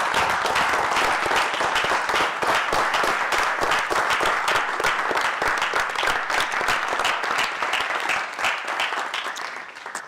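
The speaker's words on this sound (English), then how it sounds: "Give Mr. Yahuwah a hand clap." A livestreamed gathering's audience claps for a man in a loud, dense, steady burst of applause that keeps going for about ten seconds before thinning at the end.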